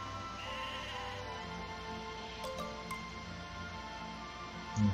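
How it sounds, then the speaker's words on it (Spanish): Sheep bleating inside the online role-playing game Mabinogi, set against steady game music and ambience, with a short burst at the very end. "Y se escapó la oveja."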